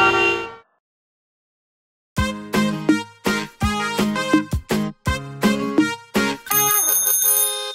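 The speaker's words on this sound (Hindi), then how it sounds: "साइकिल की घंटी जोर से बजाई" A bicycle bell rings in quick, bright repeated dings within a Hindi children's rhyme, arriving in a rhythmic burst of close, loud rings after a short pause, with a horn-like tone at the end.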